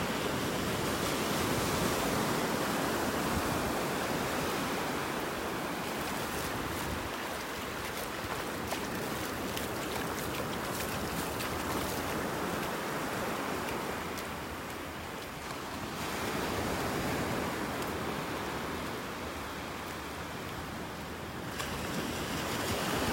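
Gulf waves break and wash along the beach at Delnor-Wiggins in North Naples, Florida, a loud, continuous surf roar with gentle surges and lulls and some wind buffeting, unbroken by voices.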